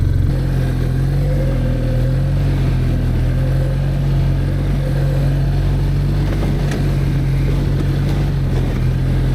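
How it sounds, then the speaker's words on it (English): A snowmobile engine idles steadily and loudly up close, a smooth continuous drone with a light clatter and no talk over it. "Sled's running awesome, idling better than it ever has."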